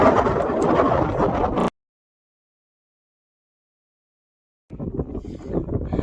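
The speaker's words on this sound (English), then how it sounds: "It's very windy." Blustery wind on an exposed slope near the Gritstone Trail buffets the microphone in broadband rumbling gusts, cutting out abruptly for a few seconds of silence before the roar returns.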